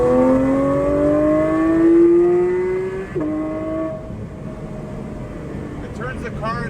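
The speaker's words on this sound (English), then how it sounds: "Personally, I've never heard a car that sounds this nice with a 6-cylinder engine" Porsche 992 GT3 flat-six with a Dundon exhaust and PDK gearbox wailing loudly as revs climb, then snapping through a fast upshift and pulling again at a lower pitch.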